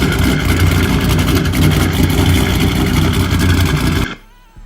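A Dodge SRT with a 6.1 V8, stage 2 cam and long-tube headers idles loud and close with a deep, choppy, lumpy burble, then cuts out sharply near the end, leaving a faint quiet tail.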